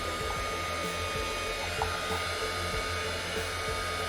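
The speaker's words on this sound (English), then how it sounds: "I'm going to use my Hippie Crafter heat gun" Hippie Crafter heat gun blowing hot air over acrylic paint: a continuous, close whooshing roar with a low motor hum and faint rhythmic ticking underneath, steady throughout.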